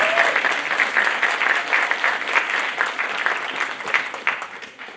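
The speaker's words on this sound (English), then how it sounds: "Give a round of applause to them" Steady, dense applause from an audience for students at an evening celebration, even and sustained throughout and tapering slightly at the end, with no voices over it.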